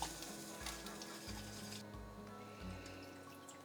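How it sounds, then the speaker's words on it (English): Parsley sauce stirred in a pan for Danish crispy pork belly, a soft continuous scraping and bubbling sizzle with faint clinks, close and moderately quiet with no talk. "And keep adding and stirring till you get the consistency you want"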